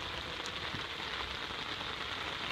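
Heavy rain drums steadily on an umbrella overhead, a dense, unbroken hiss of close drops with no voices.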